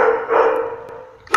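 A dog barks in the background, one drawn-out woof followed after a pause by a second sharper bark at the end, both fairly loud and clear.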